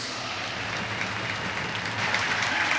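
Steady crowd applause and cheering fill a Sheffield Steelers ice hockey arena, a broad continuous roar that swells slightly toward the end.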